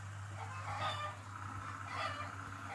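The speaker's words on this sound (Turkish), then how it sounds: "Kim o? Horoz." Clucking, crowing fowl sounds from a rooster, a bit distant, over a steady low hum in the background.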